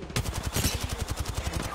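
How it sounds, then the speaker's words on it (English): Rapid automatic gunfire in a multiplayer shooter game rattles in an even, fast rhythm for under two seconds, loud and close, with no voices over it. "we're getting shot in the back"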